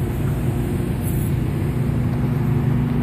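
Truck engine idling in a back alley, a loud, continuous low rumble with a steady drone that holds unchanged throughout, with no voices over it.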